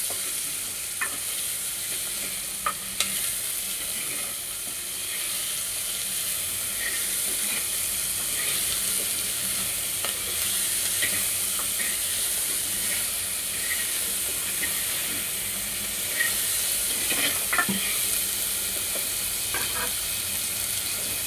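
Onions sautéing in a pan for a traditional Tamil drumstick-leaf lentil-dumpling curry, giving a steady close sizzle and hiss throughout with occasional scrapes and clicks of stirring, no talk.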